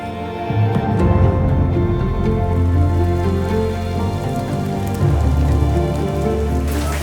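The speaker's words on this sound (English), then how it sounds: "it is raining" Steady rain falls at the Machame route gate on Mount Kilimanjaro, a dense continuous patter on surfaces with a low rumbling undertone, loud and close throughout without any voices.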